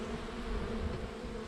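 Honey bees buzz at an opened hive, a dense continuous hum close by and fairly quiet, with no voices.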